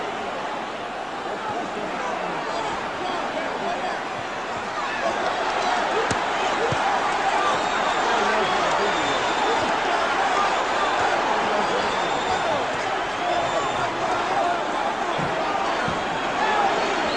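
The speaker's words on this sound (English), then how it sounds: "The crowd, needless to say, is in a bedlam." A boxing crowd roars in bedlam at the Ali vs Frazier heavyweight fight, a dense, steady wall of cheering that swells partway through, with a commentator talking over it.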